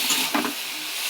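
Leafy greens tossed into a hot pan of shrimp curry set off a steady bright sizzle, with a couple of short stirring scrapes breaking through the hiss.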